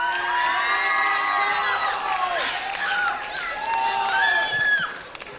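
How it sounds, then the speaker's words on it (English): Crowd of children cheering loudly at a school athletics carnival, a sustained burst of high shouts and whoops with some clapping that rises, dips and fades out near the end. "give them a big cheer"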